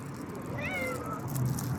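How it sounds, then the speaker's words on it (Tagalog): Homeless cat giving a single clear, rising and falling meow close by over low background noise. "May pusa dito."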